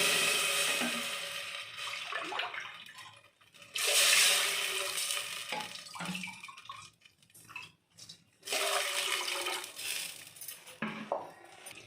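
Water poured into a cooking pot for dal in a home kitchen, several splashing bursts separated by short pauses, with light clinks of metal pans and utensils, close and fairly quiet, no talking.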